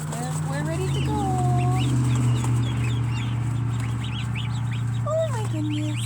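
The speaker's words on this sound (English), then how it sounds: "my 2 little shy goslings" Young goslings peeping, several high thin calls and chirps scattered over a steady low hum, with faint clucking farm-fowl sounds mixed in nearby.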